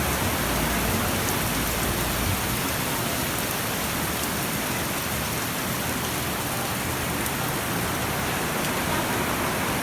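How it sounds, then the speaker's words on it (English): Heavy tropical downpour on Boracay in the Philippines, a dense, steady roar of rain drumming on surfaces, loud and continuous throughout with no voices. "the skies opened up"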